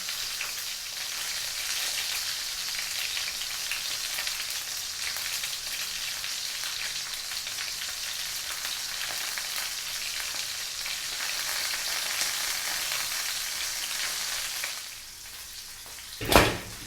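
Chicken frying in a pan, a constant close sizzle and crackle that runs steadily throughout, easing slightly near the end with a single sharp clatter.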